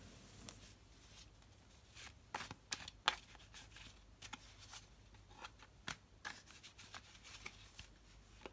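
Tarot cards being shuffled by hand, heard as faint, soft riffling and scattered light taps spread through a quiet room with no talking.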